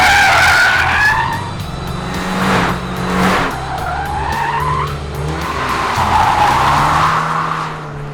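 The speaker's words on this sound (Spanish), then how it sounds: "los dos derrapan y mucho" A Toyota GR86 in Circuit Pack or Touring Pack trim drifts with its tires skidding and squealing in long, loud, wavering screeches over a steady engine roar. The sound is close and continuous, with no voices.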